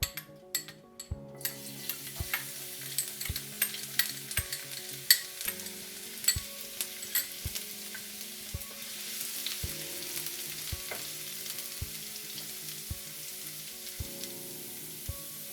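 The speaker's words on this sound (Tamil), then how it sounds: "எண்ணெய் காஞ்சதும் 4 பல் பூண்டை பொடியாக நறுக்கி வச்சுருக்கேன், அதை சேர்த்துடலாம்." Oil sizzles steadily in a pan as chopped garlic fries, with a utensil tapping and scraping in irregular clicks throughout.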